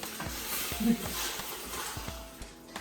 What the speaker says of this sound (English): we'll use a wooden spoon to cook them